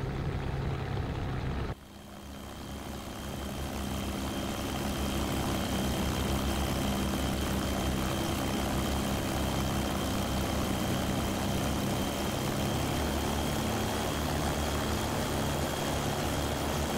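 A propeller aircraft engine in a flight simulation game runs up from idle to higher throttle to warm the oil, a steady loud drone with a constant tone that holds for the whole stretch.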